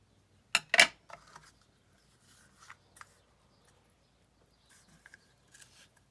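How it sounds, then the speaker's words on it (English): Scissors trimming ribbon ends, a pair of crisp snips up close followed by a few fainter clicks and rustles of handling in a quiet room, with no talk. "And trim your ends."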